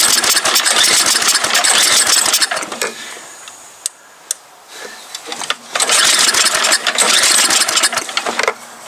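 An MTD Yard Machine snow blower engine runs loud and close with a raspy, buzzing roar, dropping off for a couple of seconds midway before surging back to full, uneven power.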